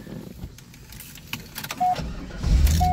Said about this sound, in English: Car starts right up, no problem.